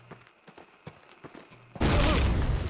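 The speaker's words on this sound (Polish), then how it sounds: "Jeden szybki wybuch i wszystko pozamiatał." Scattered clicks and thumps give way to a sudden loud grenade blast in Call of Duty that roars and rumbles on through the end.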